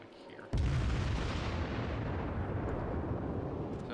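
A heavy naval gun salvo from a World of Warships battle involving the light cruiser USS St. Louis and battleship IJN Fuso: one sharp loud blast followed by a long rumbling roar that slowly fades.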